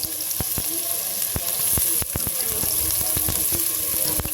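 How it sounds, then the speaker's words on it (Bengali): Chopped onions sizzle loudly in oil in a biryani pan after potatoes were fried, while a utensil knocks and scrapes the pan in irregular sharp clicks, close and continuous. "পেঁয়াজগুলোকে আমরা সুন্দর করে ভেজে নিলাম"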